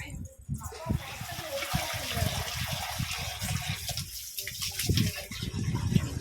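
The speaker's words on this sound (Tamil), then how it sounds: "தண்ணி ஊற்றி வச்சிடலாம்," Water poured into a clay pot set out for birds, heard as uneven gushing and splashing of moderate loudness over several seconds, with low thumps around it.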